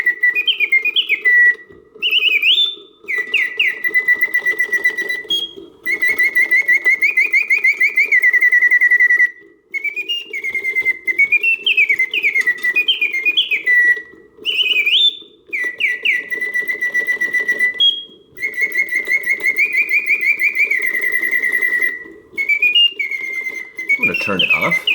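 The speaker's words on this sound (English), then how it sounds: "This birdcage is a very strong singer." A vintage Karl Griesbaum double singing birdcage automaton in excellent working condition sings loudly and continuously, with full whistled trills and warbling phrases repeating in bursts with brief pauses between, close and clear.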